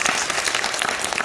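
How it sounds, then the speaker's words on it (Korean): Audience applause at a church lecture event, a steady burst of dense clapping filling the whole short moment. "다시 한번 뜨거운 박수"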